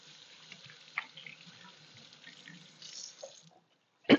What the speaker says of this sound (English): let me go ahead and wash my hands good, Deb.